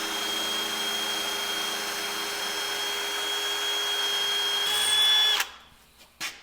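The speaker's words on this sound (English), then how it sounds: "Let's go ahead and drill them out. 13/64 is the drill bit size we'll need." Power drill boring holes with a 13/64 drill bit during a DIY welding build of a bandsaw stand, a steady high whine running for about five seconds before the bit stops and winds down.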